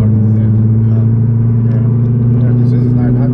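A Nissan GT-R's engine rumbles loud and steady from close by, a continuous low drone with people talking over it.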